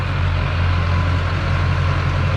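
A Duramax pickup's diesel engine runs at a steady idle, a loud, even low rumble up close with no change in pace.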